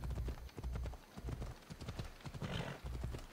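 Horse hooves clip-clopping along a road in Assassin's Creed Odyssey, a quick, even trotting rhythm with a whinny mixed in, fairly close and alone.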